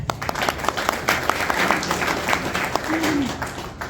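An audience at an election candidate forum claps, giving a few seconds of moderate applause with distinct individual claps rising from a room-filling patter.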